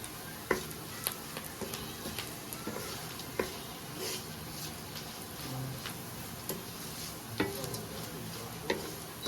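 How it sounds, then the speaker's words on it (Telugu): Bitter gourd and onions frying in a pan, stirred together with chili powder: a steady sizzle with scattered clicks and scrapes from the spoon, close and continuous, no talking. "ఈ ఉల్లిపాయ వచ్చేసి కాకరకాయకి కొద్దిగా పట్టుకున్న తర్వాత మనం కారం వేసేసుకొని కలుపుకోవాలి."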